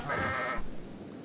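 Goat bleating in the Kenshi video game: a single drawn-out, wavering bleat lasting about half a second, fairly close and clear, then fading into quiet background.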